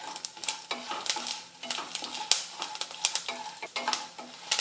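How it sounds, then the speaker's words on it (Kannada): Curry leaves roast in a pan while being stirred: rapid clinks and scrapes of a spoon against metal ring out over a soft continuous sizzle, with steady, rhythmic stirring strokes and no voices. "ಇದನ್ನು ಕರಿಬೇವನು ಚಲೋತ್ತಾಗಿ ಹುರ್ಕೋಬೇಕು ರೀ"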